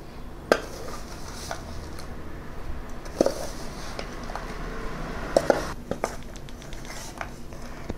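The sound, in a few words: stirring jaggery into mango pickle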